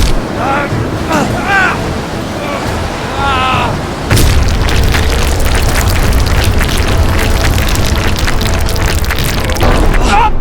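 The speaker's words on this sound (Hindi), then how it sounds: "मैदान में एक तेज धमाका हुआ।" A loud explosion booms as a sound effect in a dramatized story, a sudden heavy blast followed by sustained roaring rumble, preceded by a voice speaking.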